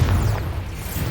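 A Confringo fire spell bursts in Hogwarts Legacy, a short low booming explosion that rumbles and fades over about a second.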